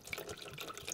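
Cold water from the fridge is poured over a mermaid doll, giving a faint, steady trickling and splashing sound heard alone.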